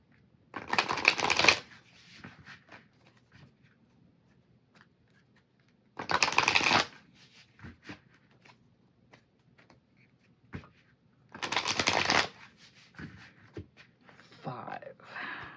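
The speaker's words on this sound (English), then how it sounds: "My method is I shuffle 5 times, cut the deck into 3 piles" Three separate bursts of tarot cards being riffle-shuffled, each a quick fluttering rattle about five seconds apart, with quiet handling noises and soft speech between.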